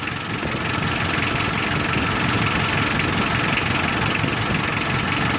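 A Mitsubishi 4D56 diesel engine idles at low RPM, a steady close mechanical rumble with a faint knocking texture and no break throughout.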